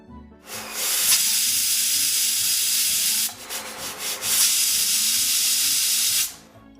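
A pressure cooker lets off a loud, sustained hiss of escaping steam, a continuous rushing blast that briefly wavers and pulses in the middle before resuming and cutting off near the end.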